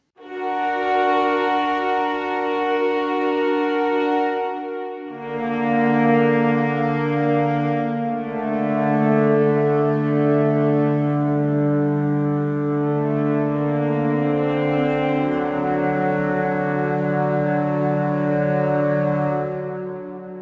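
Sustained brass horn tones from the Liminal Horns Vol. 1 sound design library by Crocus Soundware, deep foghorn-like swells layering into rich drones that shift in pitch, loud and continuous throughout with no talking.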